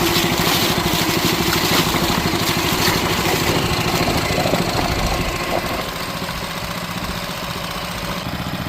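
A Hangkai 6HP four-stroke outboard motor idles steadily close by, a fast, even putter with a mechanical knock, dropping slightly in level partway through and settling into a smooth, lower idle.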